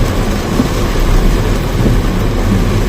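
Heavy rain pours steadily at a golf resort in Nakhon Nayok, Thailand, with a dense, constant roar and a deep low rumble beneath it, unbroken throughout.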